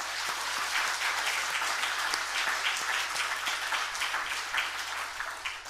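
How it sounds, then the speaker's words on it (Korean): A church congregation claps for a children's Sunday school choir during an all-generations worship service, dense rapid applause from many hands holding steady for several seconds. "박수 한번 해주시고."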